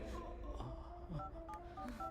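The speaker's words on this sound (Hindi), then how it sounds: "मैं अभी पुलिस को फोन करती हूँ।" A telephone keypad is dialed to call the police in a dubbed action film scene, giving a short run of distinct electronic beep tones, clear but quiet.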